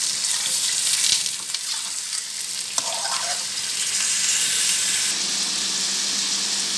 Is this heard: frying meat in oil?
yes